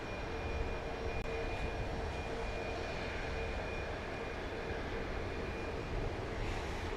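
A Premier business jet lands on runway 31 left at Dallas Love Field, a steady broad engine roar and rush that holds at an even, moderate level throughout, heard from a distance with no voices.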